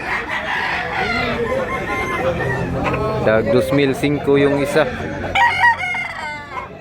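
Several roosters crow loudly and close, one after another, at a crowded chicken market in Tabunok, Cebu, while people chat and bargain over the birds.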